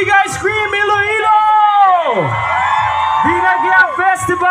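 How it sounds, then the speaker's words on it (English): A large outdoor festival concert crowd in a Megaworld car park in Iloilo screams and cheers continuously, with loud high-pitched whoops and shrieks rising and falling throughout. "I want to hear you guys scream, Iloilo!"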